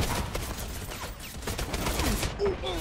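Rapid bursts of gunfire in a Call of Duty match, close and steady under game noise and a faint voice.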